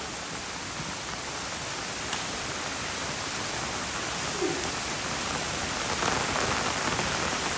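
Heavy monsoon rain pours onto a flooded street in Chattogram, a dense, constant roaring hiss at steady loudness throughout with no voices.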